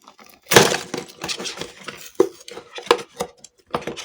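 Nano Tape craft kit carton being opened, with several loud rustling, crinkling and tearing bursts of cardboard and packaging spread irregularly across the clip, close up with no talking.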